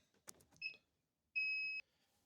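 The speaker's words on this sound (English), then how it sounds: "Sorry, I turned off the beeping." A small electronic device gives two shrill, steady beeps, the first short and the second held for about half a second, each following a brief rustle of handling nearby.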